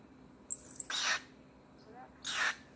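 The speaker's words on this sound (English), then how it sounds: "he just chirped and bit at my ear" Pet bird perched on a person's shoulder gives two short, sharp high chirps about two seconds apart, close and fairly faint over a quiet room.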